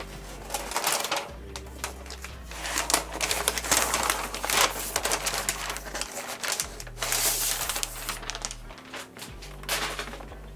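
A protective film being peeled off a new M4 Pro 16-inch MacBook Pro gives a close, continuous crinkling and tearing with irregular scratchy bursts, alone and without talk.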